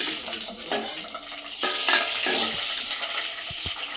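Green chillies fry in hot oil in a home kitchen pan, a steady bright sizzle running throughout with stirring scrapes and a few utensil clinks and knocks near the end.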